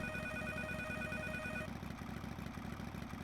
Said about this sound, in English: He needs to answer this phone.